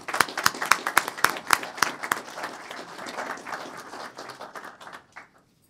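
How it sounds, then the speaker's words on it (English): At a city council meeting, sharp, distinct claps open the clip and then merge into a fuller round of applause from the room, tapering off and stopping near the end. "Let's give Farm Market another applause."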